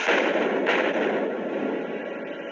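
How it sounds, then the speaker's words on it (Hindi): A suicide bomber's explosive jacket detonates beside a motorcade: a deep, booming blast with a rumbling decay, loud and close, followed by a second sharp crack and a lingering roar that slowly fades. "ये गगनभेदी विस्फोट बहरा कर देने वाला था"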